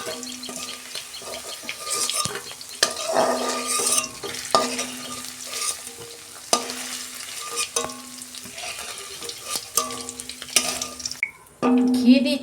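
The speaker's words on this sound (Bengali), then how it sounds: "পনিরটা আমি ভেজে নিয়েছি, তুলে নিচ্ছি, লাল লাল করে ভেজে নিয়েছি।" Paneer frying in oil for a vegetable biryani, a steady crackling sizzle with intermittent stirring clatter from a spoon in the pan, fairly close, ending with a brief louder burst.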